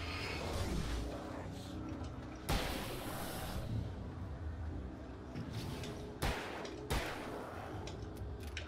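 Sharp, isolated gunshots in the horror game Alan Wake, a handful of loud cracks spaced seconds apart over a low ambient rumble.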